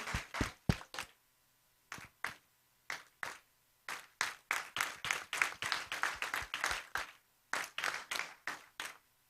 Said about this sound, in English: May I request all of you to give him a standing ovation.